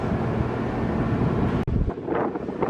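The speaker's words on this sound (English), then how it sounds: "It's very, very windy" Strong wind buffets the microphone in a steady roaring rush, with a sharp click partway through and gusty rumbling afterward.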